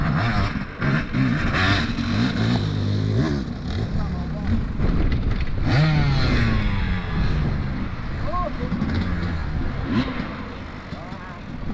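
An enduro motorcycle engine revs and labours up a wet, muddy hill climb, loud and continuous with rising and falling throttle, while people talk over it and wind buffets the microphone.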